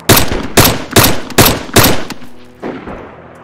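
Gunfire in DayZ: five sharp, loud shots crack off in quick succession, then a fainter trailing burst, with no talking.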